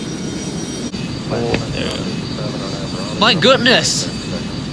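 Airplane engine in the flight game Airline Commander, a steady broadband roar under a voice as he exclaims and speaks over it.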